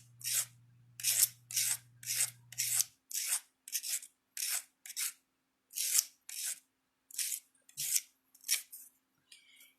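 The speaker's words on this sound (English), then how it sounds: "where's my sanding stick again?" Repeated rasping strokes of a sanding stick rounding copper edges, about fifteen short scrapes in a steady rhythm, close and clear, with a faint hum early on.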